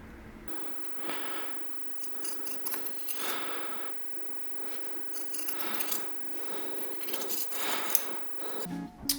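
Scissors snip repeatedly through fabric socks in short rasping bursts, with faint metallic clicks between cuts, close up and alone with no voices.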